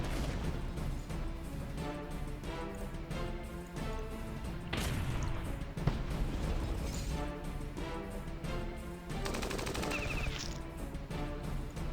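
Machine gun fire and explosions in the video game Battle Nations form a dense, continuous clatter of rapid bursts and booms under music, loud throughout.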